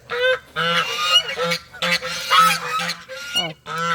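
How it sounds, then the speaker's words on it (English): A big, fast-growing baby goose in a bird yard honks repeatedly in loud, close bursts, its calls coming in quick runs with short gaps between them. "baby goose."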